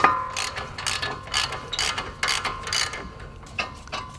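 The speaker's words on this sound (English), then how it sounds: "come behind that with a ratchet, loosen them the rest of the way" Rapid clicking of a ratchet loosening brake caliper bolts on a 2012-2018 MK6 VW GLI, close and busy, in repeated bursts of ratcheting strokes with no talk.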